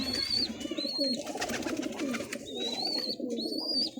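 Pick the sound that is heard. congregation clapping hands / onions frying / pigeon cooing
pigeon cooing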